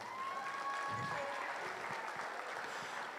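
Faint, distant applause from spectators at a youth fair commercial heifer show, scattered hand clapping for the senior showmen lasting a few seconds, with a brief low thump partway through.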